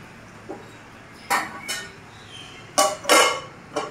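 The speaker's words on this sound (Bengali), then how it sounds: "এখন আমি আর একটু ঢেকে দিয়ে দেবো, ঢাকনা দিয়ে দিচ্ছি।" A metal lid goes onto a pot of simmering desi chicken curry, with a few close clinks and clanks of cookware. There is one soft knock early, then sharper clatters, the loudest pair near the end. No one speaks.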